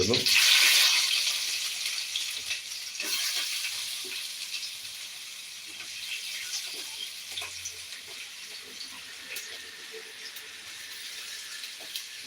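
Chopped onion dropped into a hot pan of oil with mustard seeds and dried red chillies gives a sudden loud sizzle that settles into a steady, softer frying hiss.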